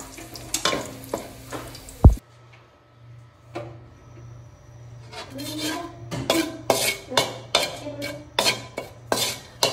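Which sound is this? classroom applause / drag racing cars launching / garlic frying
garlic frying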